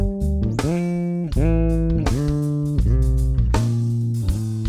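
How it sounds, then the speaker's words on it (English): Bass guitar notes glide up and down a one-octave G Dorian scale in a steady series of slides, each sustained note bending smoothly into the next. "But sliding on bass is just the best."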